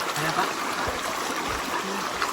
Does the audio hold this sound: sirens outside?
no